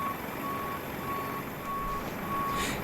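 A passenger bus at an airport in Microsoft Flight Simulator with GSX backs up, its reversing alarm sounding four evenly spaced beeps over a constant engine and ramp rumble.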